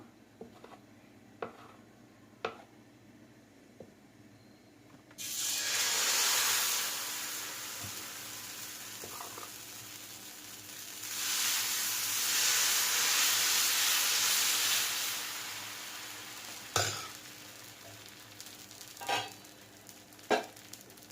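Dosa batter sizzles loudly on a hot griddle after a quieter stretch with scattered clicks and taps, swelling into a steady frying hiss that fades and rises again before a few sharp kitchen knocks.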